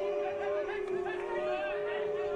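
A home crowd at an amateur football match at Crosby Field murmurs and chatters in protest over a yellow card, a steady distant crowd noise with a sustained tonal hum running through it.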